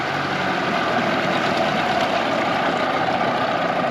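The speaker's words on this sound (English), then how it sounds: "And you come back to idle, and the motor should not stall" A Tohatsu 9.8 outboard motor idles steadily and loudly up close, a continuous even drone with no break and no voices.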